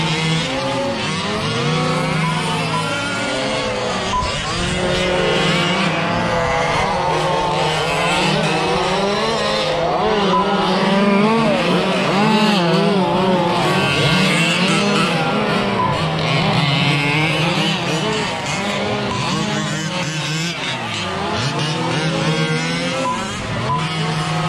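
1/5 scale RC race cars scream around a Wagner Park track in an open-class race, their engines wailing and revving continuously with rising and falling pitch as several cars pass close by, loud throughout.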